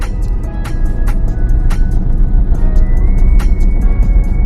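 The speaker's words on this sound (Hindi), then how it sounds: "स्पीड ब्रेकर क्रॉस हो रहे हैं आप" A learner car rolls over a speed breaker, with a steady low engine and road rumble filling the cabin and a few faint knocks and clicks scattered through it.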